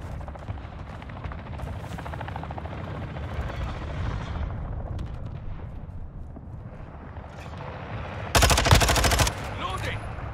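Helicopter in Call of Duty Modern Warfare 2, a steady rotor drone under dense game sounds, with a short loud burst of gunfire near the end.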